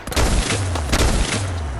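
A Tesla rifle fires in Fallout 4 while raiders attack Abernathy Farm: a loud, dense, crackling electric discharge runs without a break, with rough bursts layered over a low hum, close and with no talk.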